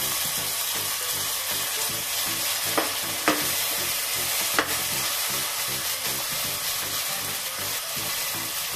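Green peas frying in a spoonful of ghee with ginger-garlic paste for coconut rice, a steady close sizzle with a few light clinks of stirring and no talking.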